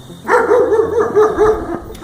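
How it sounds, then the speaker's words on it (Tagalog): A dog barks in a quick run of about six close, loud barks in steady rhythm, alone without talk. "Sabay tahol ng aso."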